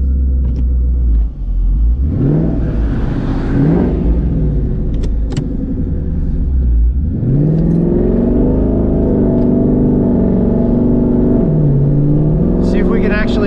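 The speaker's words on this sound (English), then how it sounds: "see if we can actually pick up any extra turbo whistle" Twin-turbo Mustang GT fitted with an XL turbo exhaust whistle, heard from inside the cabin as a boomy engine rises and falls through several revs, a faint whistle riding on top.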